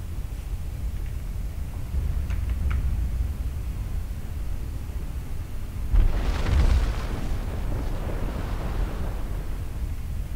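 MechWarrior Living Legends combat with a low, steady roar of bomb and weapons fire, a swelling explosive rumble partway through, and a few faint pops earlier, all under a constant dull background.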